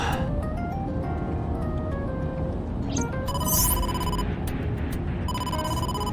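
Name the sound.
telephone ringing in a video game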